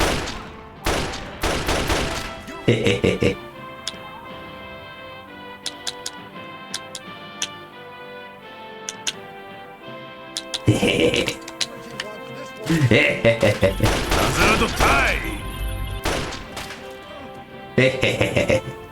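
Gunfire in Fallout 3 rings out in loud, rapid volleys at the start and again toward the end, with sparse sharp clicks and quieter gaps in between.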